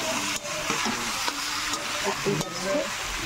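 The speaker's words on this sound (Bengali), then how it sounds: "আমি মাংসটা তুলে দিয়েছি, দিয়ে হালকা করে নাড়াচাড়া করে নিয়েছি" Meat is stirred through spice masala in a kadai and fries with a crackling sizzle, broken by scraping strokes of the spoon, while light background sound runs underneath.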